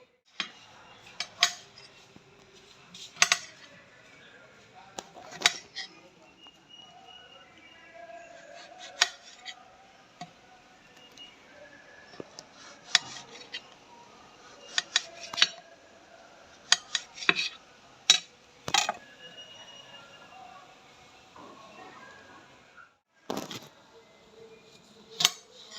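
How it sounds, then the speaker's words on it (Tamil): Prawns being sliced thinly for a Jaffna-style prawn curry: scattered sharp knife-on-board and metallic clinks, close and fairly quiet, irregular with pauses, over a hushed kitchen background. "நாங்கள் கறிக்கண்டு சொன்னதால் வந்து இப்படி மெல்லிசாக கட் பண்ணுறோம்"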